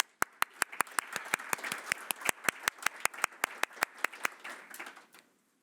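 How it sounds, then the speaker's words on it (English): Applause at a World Health Assembly side event on dengue fever, sparse and fairly quiet, with a few close, sharp, evenly spaced claps standing out over a light patter from a small group, fading out at the end. "a round of applause for everybody, all the speakers, everybody here"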